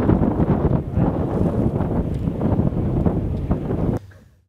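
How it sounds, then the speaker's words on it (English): Strong wind buffets the microphone in a steady, loud rumble for several seconds, then cuts off abruptly near the end. "The whole trip was windy, actually."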